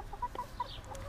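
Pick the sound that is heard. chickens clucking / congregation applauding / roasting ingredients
chickens clucking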